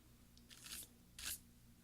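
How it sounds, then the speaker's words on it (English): A plastic caps lock key on a mid-2010 13-inch MacBook Pro being pried up with a small tool: two short crunching snaps about half a second apart, close and fairly quiet, with no talking. "We're going to remove the caps lock key."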